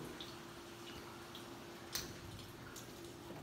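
Water drips on level 2 of a Titan II missile silo, a few sparse, faint drops landing at irregular intervals over a low steady hum in a quiet, enclosed space.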